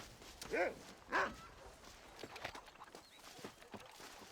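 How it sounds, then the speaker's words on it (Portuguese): A dog barking in the western game Red Dead Redemption: two clear barks close together near the start, then softer hoof-like clopping and footstep thuds under a quiet background. "Vou matar o cachorro ali, ó."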